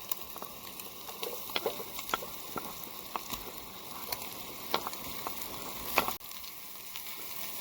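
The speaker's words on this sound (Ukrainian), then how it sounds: "додаємо, друзі, цибулю сюди" Chopped onion hits hot oil in a military-style pot on a camping stove, giving a quiet, continuous sizzle scattered with small crackles and pops.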